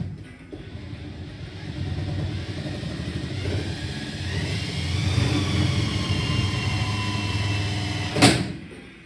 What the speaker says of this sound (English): I'm gonna put the drill on the alternator and spin it.